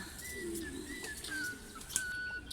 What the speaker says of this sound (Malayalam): നല്ല വെളുത്ത നല്ല സുന്ദരികളായ ഒരുപാട് പ്രാവുകളുണ്ട്. പ്രാവുകൾ കൂട്ടിനകത്ത് കിടക്കുകയാണ്.